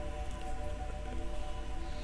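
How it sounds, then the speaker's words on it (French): Heavy, steady rain from a passing thunderstorm pours down continuously at night in Vampire: The Masquerade, a dense hiss of drops drumming on surfaces with no voices. "Il y a un orage qui passe au-dessus de vos têtes."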